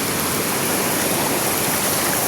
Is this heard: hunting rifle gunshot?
no